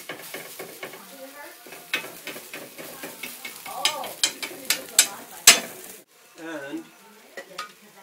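Potato pancakes fry on high heat with a busy crackling sizzle and frequent utensil clinks and scrapes against the pan, close up, while someone talks over parts of it.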